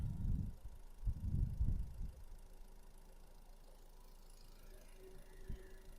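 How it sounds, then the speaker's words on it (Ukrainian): A 2010 Nissan Qashqai 1.6 MPI petrol engine idles quietly with a low, even hum. A few louder thumps of handling noise come near the start. "Мотор мурчить"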